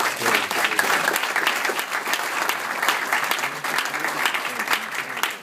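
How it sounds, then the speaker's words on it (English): An audience at a talk gives a round of applause for Papaya and a group of startups: dense, continuous clapping from many people, fairly loud and steady throughout. "you can give a round of applause to Papaya and each of these startups"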